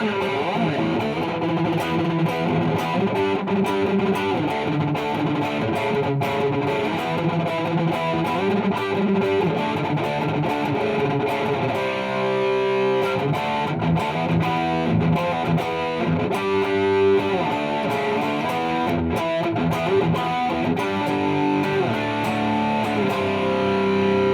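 A Siggi Braun Dragon Fire boutique electric guitar played through heavy distortion, riffing continuously and loudly with dense chords and single-note runs, no voices over it.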